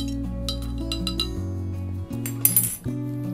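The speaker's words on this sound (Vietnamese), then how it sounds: "các bạn hãy khuấy đều lên" A spoon stirring liquid in a glass, bright repeated clinks of metal against glass ringing out in quick succession.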